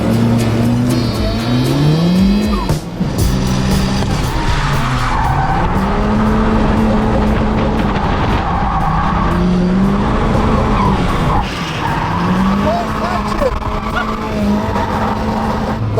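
A 1.6-litre Toyota Corolla drifting a lap, engine revving hard and swooping in pitch while tires squeal almost continuously, loud and close throughout.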